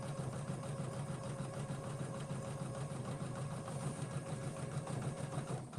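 Embroidery machine running an appliqué satin stitch, a steady, fast mechanical whir with a continuous rhythmic buzz throughout, fairly quiet and without speech.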